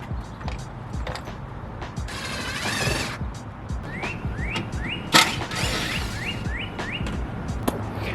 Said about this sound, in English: drill in my self-tappers to hold the lip on right here